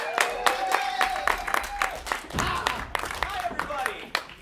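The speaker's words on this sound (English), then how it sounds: "Welcome with applause" An audience applauds as a band is welcomed on stage, scattered claps and crowd noise mixed with a voice speaking over it and some musical tones.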